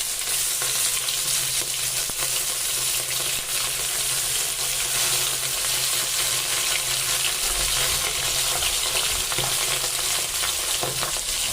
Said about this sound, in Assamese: এইফালে মই মাছখিনি ভাজিবলৈ লৈছোঁ ধুনীয়াকৈ নিমখ হালধি সানি